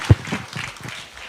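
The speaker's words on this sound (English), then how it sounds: "Another round of applause for the principals, please" Brief, scattered clapping from an audience at a Kenyan political event, one sharp clap up front followed by lighter, thinning applause in the background.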